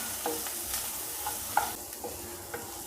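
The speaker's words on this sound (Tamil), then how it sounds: "கேஸை ஸ்லோவாக வச்சு நம்ம இதை வறுத்து எடுத்துக்கலாம்" Potatoes fry in a pan over low gas while being stirred, giving a soft steady sizzle broken by light scraping strokes about every half second, fairly quiet and close, with no voices.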